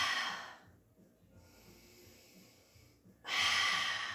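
A breath exhaled during a mat pilates exercise, close and breathy, with a soft hiss of air at the start and another at the end, quiet stillness between.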